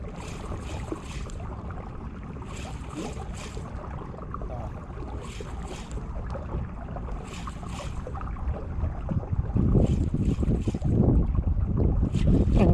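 Water rushes and splashes around a boat in steady wind, with repeated bursts of spray. The surge grows louder and rougher near the end. Nobody speaks.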